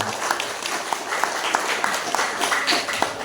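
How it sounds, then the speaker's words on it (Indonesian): Students at a school short Islamic course at SMP PGRI 02 Way Serdang give a round of applause, with many overlapping claps and a few sharper individual ones standing out, fairly close and steady. "Tepuk tangan bagi kita semua."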